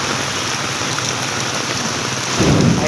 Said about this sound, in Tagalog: Ang lakas po ng kidlat.